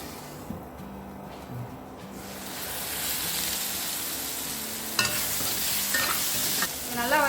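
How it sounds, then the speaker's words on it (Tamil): Chettinad crab masala ingredients sauté with salt in a covered pan, giving a steady, close sizzle and hiss that swells after the first couple of seconds, with a brief clatter midway and no voices. "ஒரு 2 நிமிஷம் நல்லா வதங்கட்டும்."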